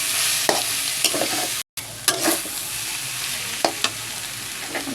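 Boiled papaya with coriander leaves fries in oil in a pan, giving a steady close sizzle broken by sharp scraping stirs every second or so, with one brief dropout to silence.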